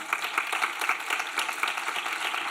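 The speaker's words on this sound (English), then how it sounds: "Big applause for them." A conference audience at a pediatric innovation day in Barcelona claps for the organizing team, a brisk, fairly loud burst of many hands in close, uneven rhythm lasting a couple of seconds, heard alone without talk.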